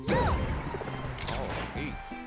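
A down smash attack lands in a Super Smash Bros. Melee tournament match of Peach against Falco, a sharp crashing hit followed by more thuds and game effects over a constant noisy arena background.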